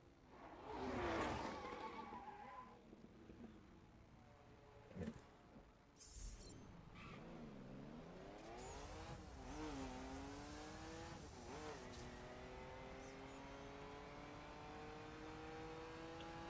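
A car in The Crew video game revs and accelerates, engine pitch climbing in repeated sweeps after a brief skid and a few sharp knocks early on, steady and fairly quiet.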